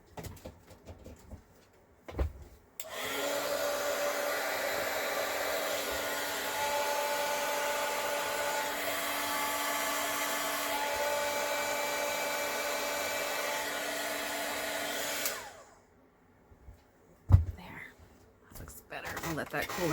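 A heat gun blows hot air for heat embossing powder on a card, a loud steady whooshing roar that runs about twelve seconds, with short soft handling sounds and clicks before and after.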